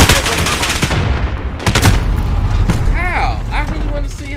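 Loud automatic gunfire and heavy booms from an online multiplayer video game battle, with sustained bursts early, a sharp blast near the middle, and whistling effects toward the end.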